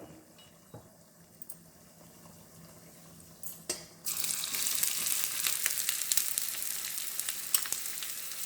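Onions hit a hot frying pan for mutton chops, setting off a sudden, loud, bright sizzle about halfway through that stays strong and steady after a few faint clicks and rustles.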